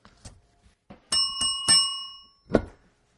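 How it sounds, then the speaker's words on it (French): A small bell rings indoors during a podcast recording, giving three or four bright, separate dings with short ringing tails and quiet gaps between them. "Notre cloche a de la misère aujourd'hui."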